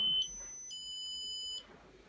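A REM pod alarm goes off during a paranormal investigation of a house, emitting shrill, piercing electronic tones that shift pitch once and then cut off abruptly, with no voices.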